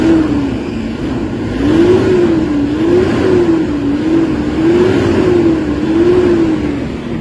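Toyota Hilux engine, after a throttle-delay fix, revving steadily up and down in a smooth rising and falling pattern, loud and close, with no talk over it.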